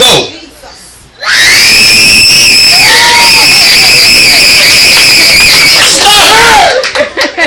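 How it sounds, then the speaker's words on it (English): A church congregation screams loudly and continuously, the many voices swelling together into a sustained roar that holds for several seconds before breaking off. "scream as loud as you can and shake up your clothes as hard as you can"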